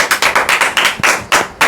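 A church congregation claps after a sermon in a burst of bright, rhythmic, fairly loud hand claps, about a dozen in quick succession.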